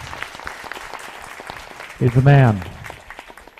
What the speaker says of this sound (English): Need one more round of applause for Mike Bishop